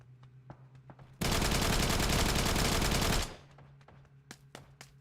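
AK gunfire in the battle royale game New State Mobile: a dense, loud sustained burst of automatic shots lasting about two seconds, framed by quieter game ambience with a few faint scattered shots.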